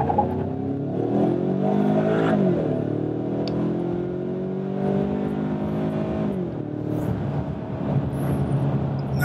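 A 2015 Ford Mustang EcoBoost accelerates hard from 0 to 60 mph, its engine note climbing through rising revs with a drop at each gear shift, loud and close throughout.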